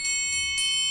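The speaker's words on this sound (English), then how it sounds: "So that's the triangle." A metal triangle struck with a metal beater, giving a bright, shimmering ring with quick repeated strikes in a short burst, sustaining clearly throughout.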